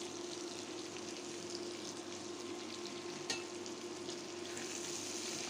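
Prawns with turmeric and salt fry in a pan, giving a steady, even sizzle that stays low and constant, with a single faint spoon tap partway through.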